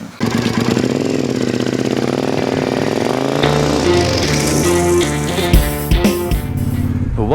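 A motorcycle engine runs and builds up as the bike gets under way on a winter road trip, a steady loud drone with rising pitch and shifting tones, close to the rider.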